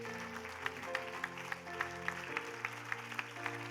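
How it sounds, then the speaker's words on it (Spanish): Church congregation applauding during a Spanish-language service, a steady wash of claps with sharper peaks recurring about every third of a second, over sustained organ or keyboard tones. "Iglesia, el aplauso para el que viene."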